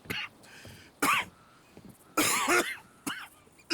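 A character coughs in Red Dead Redemption 2: harsh coughing and throat-clearing bursts come in four separate fits, fairly close and loud, with short quiet gaps between them.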